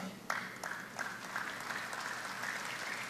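Church congregation applauding during a service, a dense, even wash of many hands clapping at moderate distance, with a few sharper claps near the start and faint talk underneath.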